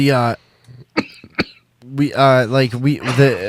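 A few short, sharp coughs in the middle, between stretches of someone talking and laughing.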